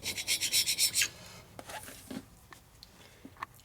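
Scraper working carbon off the head gasket surface of a Harley twin cam cylinder head: a fast run of even rasping strokes up close, then scattered fainter scrapes and small clicks.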